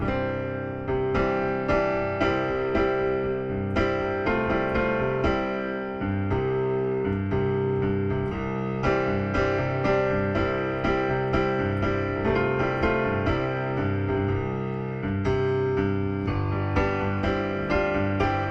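Solo piano plays a steady, melodic tune with chords and a clear rhythmic pulse, continuous and close, with no voices.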